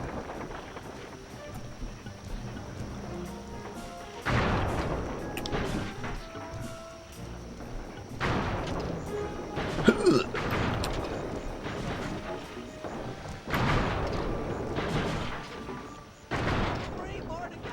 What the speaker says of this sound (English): Alright, these, I think, take 2 bombs.